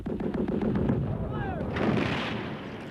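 Continuous artillery bombardment from Korean War trench warfare, a dense stretch of repeated booming impacts and rumbling blasts with a sweeping whistle midway, loud and unbroken throughout.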